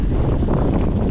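Steady headwind roars across the microphone of a rider reconnoitring a cross-country mountain bike course at the 2023 French championships, a continuous, loud, buffeting rush with no talk.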